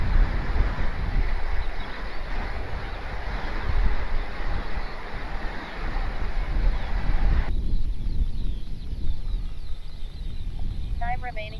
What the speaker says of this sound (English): It's the weather. The wind conditions are not right for it.